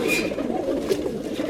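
Pakistani high-flyer pigeons give soft, low cooing calls up close, a continuous murmuring burble with a faint higher chirp, under quiet background talk.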